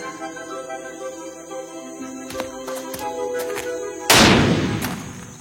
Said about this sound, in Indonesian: Aku melepaskan tembakan untuk membuat apel jatuh.